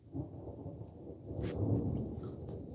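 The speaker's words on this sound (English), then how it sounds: "There's a storm going on." An afternoon thunderstorm in Rhode Island: steady rain hisses throughout while deep thunder rumbles and rolls, swelling in the middle, captured on a phone with no talking.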